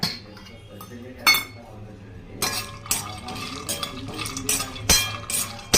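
Cashews are stirred in a pan while roasting, a spoon scraping and clinking against the metal in irregular knocks, with a soft sizzle underneath and a person talking over it.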